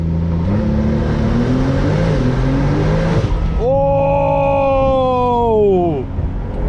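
Brabus-tuned Porsche 911 Turbo S making a launch from a standing race start, heard from inside the cabin: a loud, steady engine roar that climbs sharply in pitch through the gears, with brief shift dips and rising whine.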